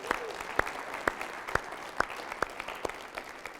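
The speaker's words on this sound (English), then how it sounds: "Give these people a huge round of applause." Audience applause at a personal development seminar evening: a sparse, steady run of sharp individual claps at an even beat over a soft room hum, with no voices.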